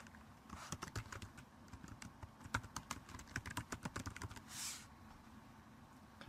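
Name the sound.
typing a name on a computer keyboard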